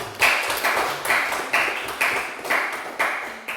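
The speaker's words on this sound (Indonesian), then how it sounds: "beri tepuk tangan untuk kelompok 1" A classroom group claps in a steady, even rhythm, roughly two claps per second, fairly faint and slightly distant, with no talking over it.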